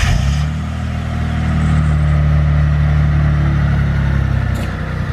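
A JDM car engine runs loud and close, with a steady, deep idle rumble that swells slightly as if revved, holding continuously throughout.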